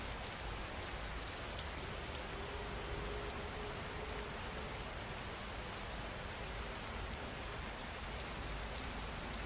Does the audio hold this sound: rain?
yes